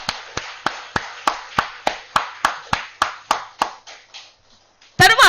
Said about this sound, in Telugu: ఒక్కసారి ఈ చక్రానికి, ఈ శక్తి క్షేత్రానికి ఒక్కసారి గట్టిగా గట్టిగా చప్పట్లు కొడదాం